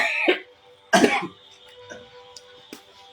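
A church congregation coughs on command during a service, with two loud bursts of coughing followed by scattered fainter coughs through the room over a steady tonal hum.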